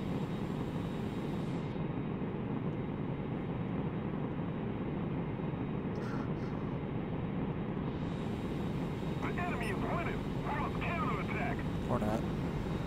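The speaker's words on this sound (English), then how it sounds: "What's that? It's a Yak-15." A Yak-15 jet fighter in the War Thunder combat flight game roars steadily throughout, a constant loud engine drone with a brief higher whine midway and faint speech near the end.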